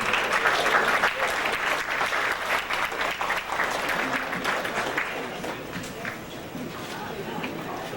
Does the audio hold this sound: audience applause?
yes